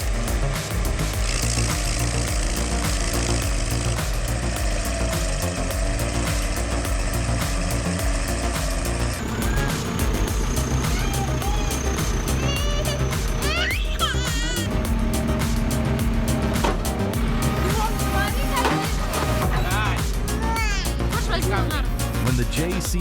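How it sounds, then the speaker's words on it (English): Heavy machinery grinds a tree stump into sawdust, a loud, constant engine drone with a shift in tone midway and scattered chipping, mixed under talk throughout. "Each spin delivers concentrated force, grinding the stump into sawdust."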